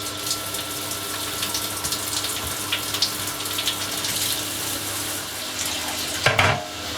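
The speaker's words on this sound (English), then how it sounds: "I've got nothing to restrict the flow in the mash tun, so I don't want it spraying boiling water everywhere" Boiling water flows unrestricted through a hose into a home-brewery mash tun, a steady, close rushing gush throughout, ending with a brief clunk and splash near the end.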